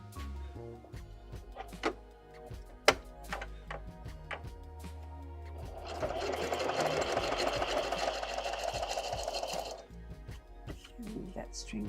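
Sewing machine stitching along the edge of a junk journal, a steady mechanical whir of rapid stitches for several seconds, preceded by a voice and scattered taps and clicks.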